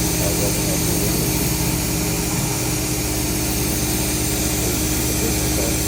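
A home shop CNC mill cutting an aluminum pocket with an air blast clearing chips and no coolant, giving a steady, loud machining whir with a constant hiss of air throughout.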